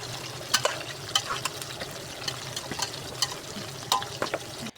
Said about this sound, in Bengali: আগে থেকে মাংস ম্যারিনেট করা মাংসগুলো দিয়ে দেব। দিয়ে ভালো করে মিশিয়ে নেব।